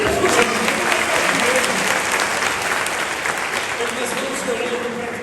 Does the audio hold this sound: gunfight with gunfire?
no